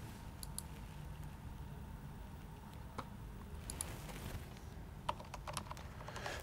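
Keys clatter as a Wi-Fi network password is typed on a keyboard, scattered soft clicks in short bursts over a quiet, hissing background, faint and close.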